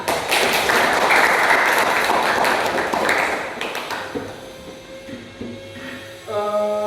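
Classroom students clap together after a geography lesson presentation, a dense burst of handclaps that fades out after about four seconds, followed by a few faint tones and knocks.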